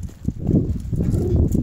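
A horse being turned left and right clip-clops its hooves in a quick, uneven run of close thuds.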